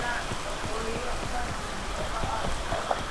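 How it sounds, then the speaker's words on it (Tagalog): Steady rain falling outdoors, a continuous close patter of drops with irregular taps on a surface, at a moderate level without a break. "Sige, may ulan eh."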